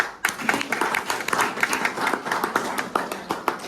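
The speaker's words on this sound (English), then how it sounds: "Resounding applause from my end as well." Classroom applause after a college session: a small group clapping in a quick, uneven patter of sharp individual claps, close and fairly loud, starting abruptly and continuing steadily without talk.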